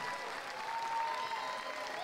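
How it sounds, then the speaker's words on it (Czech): Audience applause at a folk festival competition for the Slovácký verbuňk men's dance, a steady wash of clapping heard from a distance. "Brněnsko tleská!"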